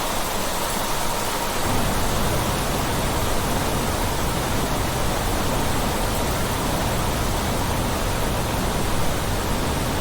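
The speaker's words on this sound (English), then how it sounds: "I hope you can hear my voice on top of the rain." Steady, dense rain from the video game The Planet Crafter, a loud continuous broadband hiss that fills the whole stretch with no voices over it.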